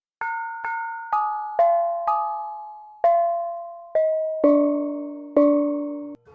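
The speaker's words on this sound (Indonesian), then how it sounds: "Lancaran hasbunallah dimulai dengan membuka bonang." Bonang gong-chime of a Javanese gamelan opens a lancaran with about ten ringing struck kettle tones, each a clear metallic bong that decays, descending in pitch with a steady rhythm, alone.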